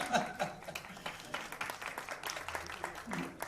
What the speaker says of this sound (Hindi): एक बार जोरदार तालियां अम्बुज जी के लिए।